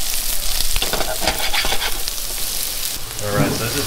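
Food with mushrooms being stirred and tossed in a hot frying pan, a loud continuous sizzle broken by rhythmic scraping and clattering of the utensil against the pan, close up.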